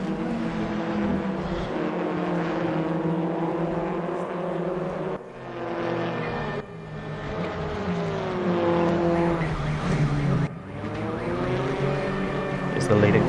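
Race cars in a sim racing league event roar into the pits, engines droning and shifting pitch as several pass and cut between shots, with a commentator talking over them.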